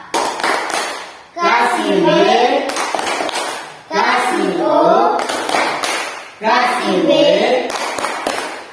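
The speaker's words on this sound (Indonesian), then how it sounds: "kita kasih tepuk wow untuk kelompok" A classroom group does the "tepuk wow" chant, with children clapping crisp rhythmic bursts in time between short shouted syllables. Three sung or called phrases alternate with sharp clap patterns, loud and close.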